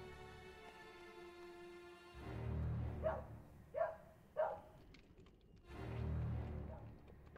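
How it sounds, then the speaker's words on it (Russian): Dog barking in The Witcher video game: three sharp, evenly spaced barks over a faint background drone, with a soft low rumble before and after. "Собака."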